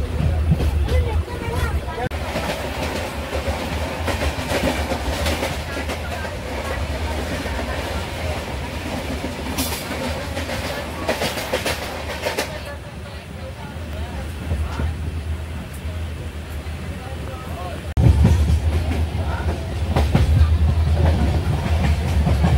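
Howrah to Haridwar Kumbh Express, train 12369, running steadily along the rails with a continuous rumble and rattle of the carriages, with people talking softly nearby and a brief surge in loudness near the end.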